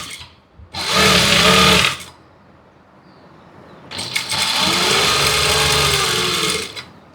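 A sewing machine stitches a chudithar seam in two loud, steady runs of about a second and nearly three seconds, separated by a quiet pause, close and alone without talk.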